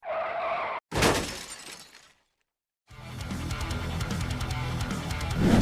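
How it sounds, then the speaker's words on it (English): A car crashes into the back of a stopped van on a road, with a harsh impact and shattering crunch, a brief silence, then loud continuous road and engine noise. "The cameraman braked, but not soon enough, crashing into the back of the van."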